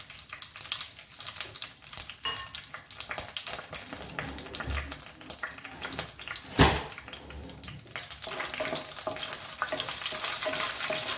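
Curry leaves and peanuts fry in hot oil for batata poha, with a steady crackling sizzle throughout and one sharp pop near the middle.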